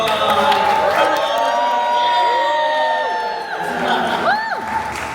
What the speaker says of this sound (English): Let's give a round of applause to the costume designers early on.